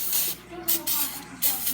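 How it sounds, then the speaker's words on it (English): An aerosol can of spray silicone sprays onto quad parts and outerwear in three loud close hissing bursts separated by short pauses. "you want to spray the shit out of your outerwear."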